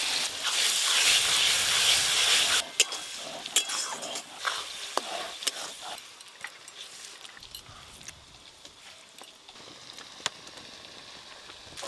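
Onion, ginger and garlic paste sizzles in a pan for mutton curry, a dense hiss loud at first, then settling lower, broken by sharp clicks of stirring.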